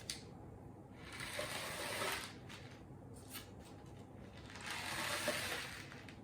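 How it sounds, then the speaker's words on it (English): A homemade rainstick filled with pasta, tilted back and forth, gives soft, rushing swells of rattling pasta pieces, two main surges with quieter trickling between, faint and close. "here is what my rain stick looks like. Now let's listen to it."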